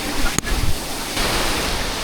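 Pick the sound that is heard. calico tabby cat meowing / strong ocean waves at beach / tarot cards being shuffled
strong ocean waves at beach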